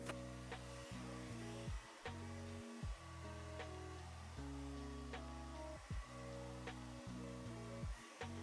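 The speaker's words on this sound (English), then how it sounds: "I think I need to blow dry my hair a little bit" A hair dryer blowing hair dry, close and steady, its motor whine and airflow rising and dropping in tone as it is moved around, with several brief cut-offs and restarts.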